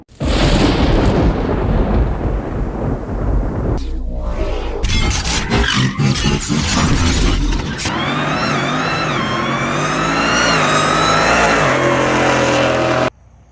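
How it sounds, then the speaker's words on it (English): A car engine cold starts with a loud, deep roar that settles into crackling pops and then a high, rough idle with a whining tone, close and powerful, until it cuts off abruptly near the end. "So let's get a little cold start going"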